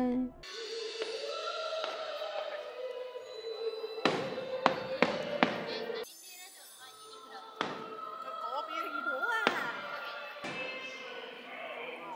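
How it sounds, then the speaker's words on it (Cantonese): Castle fireworks show at Tokyo Disneyland: several sharp booming bursts in a quick cluster, then scattered further thumps, over steady crowd murmur and voices nearby. "當然要睇埋佢嘅煙花表演先走啦"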